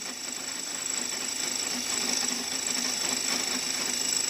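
A power drill enlarging a hole in a motorcycle starter part runs as a steady, close mechanical whine with a buzzing grind that holds evenly for several seconds, with no speech.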